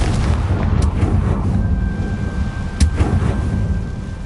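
Confringo fire spell in Hogwarts Legacy bursting and burning through dry vines, a loud sustained roar of crackling flame with a sharper whoosh near the end, close and alone with no speech.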